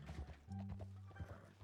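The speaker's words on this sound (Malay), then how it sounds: "Dengar kuda." Horse hooves clip-clop in a short burst of steps at moderate distance, fairly quiet, with faint background tones and no clear talk over them.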